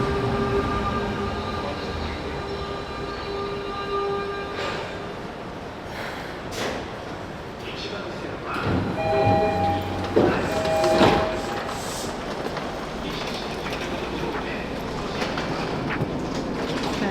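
A Tokyo metro train runs along the rails with a continuous rumble, some clattering and screeching bursts partway through, and brief faint voices in the background.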